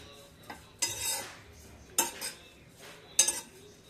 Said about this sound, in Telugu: రొయ్యి పొట్టు కారం చక్కగా ఇట్లా వేపేసుకోవటం